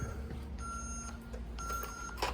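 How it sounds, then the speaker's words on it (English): A burglar alarm sounds repeated electronic tones, two sustained beeps separated by a short gap, fairly faint over a low steady hum of room noise. "One, we got to disable the alarm."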